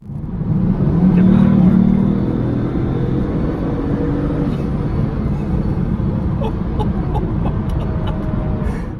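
Bugatti Veyron hypercar accelerating hard, a loud, deep engine roar that swells early then holds a rough, aggressive rumble throughout, close and dominant.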